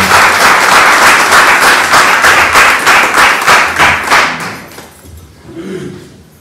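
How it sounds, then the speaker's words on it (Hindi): A church congregation in Nurabad gives a loud round of rhythmic applause to welcome a speaker, the clapping fading away after about four seconds, followed by quiet murmuring. "ताली के द्वारा उसका हम फिर से एक बार स्वागत करेंगे"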